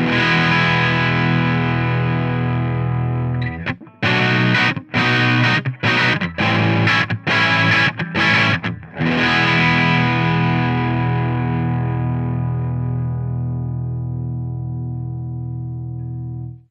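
Electric guitar played through a chain of distortion and effects pedals with no buffer, a heavily driven chord ringing out, then a burst of choppy, stuttering strums, then another long sustained distorted chord fading slowly, loud and close with no talk.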